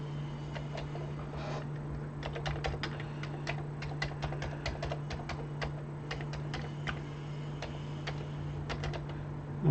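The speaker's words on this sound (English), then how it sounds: "The keyboard works." Keys on a Commodore 64 keyboard are typed in quick, irregular clicking runs, close and fairly quiet over a steady low electrical hum.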